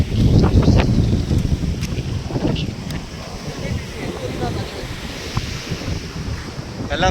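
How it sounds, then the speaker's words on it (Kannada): Ocean waves at Apsarakonda beach near Honnavar, rushing surf mixed with heavy wind buffeting against the microphone, loudest at the start, with faint voices in the background. "ಅಪ್ಸರಗೊಂಡ ಬೀಚು. ಬೀಚಿಗೆ ಬಂದ್ವಿ."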